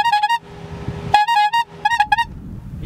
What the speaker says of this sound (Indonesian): coba kita bunyi klakson